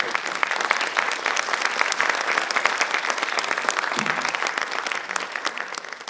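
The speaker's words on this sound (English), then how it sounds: "Applause for Mr. Kurkov." An audience applauds author Andrei Kurkov after an interview, dense continuous clapping from many hands filling the room and tapering slightly toward the end.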